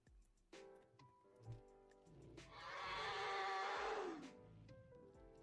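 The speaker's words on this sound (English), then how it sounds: "See the growl?" A dinosaur growl from the Dinosaur Simulator game, a single rasping, rising-and-falling cry lasting about two seconds amid faint thumps and background sounds, fairly quiet overall.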